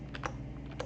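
Several quick taps on a computer keyboard, close and quiet, in a short burst of irregular keystrokes.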